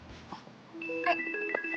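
A phone call rings through with a tonal ringing melody that begins partway through, close and fairly steady. Soft rustling and faint handling sounds come before it.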